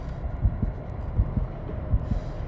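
A steady, muffled heartbeat from the horror video game Call of Cthulhu thumps low and close in repeated double beats, alone over a faint background hum.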